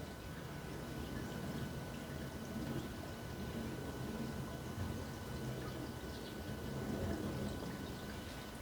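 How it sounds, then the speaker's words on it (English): Water flowing steadily while filling a TD-6 crawler under restoration, a soft continuous rushing and trickling wash, faint and unbroken, with no voices. "I came around the corner, heard the water flowing."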